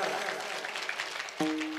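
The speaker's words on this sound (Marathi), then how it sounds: "टाळी वाजवा टाळी वाजवा वाजवा ना टाळीचा आवाज आला पाहिजे" Faint, scattered hand clapping from an audience at a devotional kirtan gathering, quiet and uneven, ending with a brief sustained tone.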